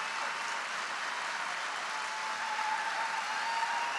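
A large crowd applauding steadily at a political speech, a dense continuous wash of clapping that holds at the same loudness from start to finish.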